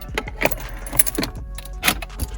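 Keys jangle and turn in the ignition of a Renault Clio 4, giving a few close, short metallic clinks and rattles with a faint low hum underneath.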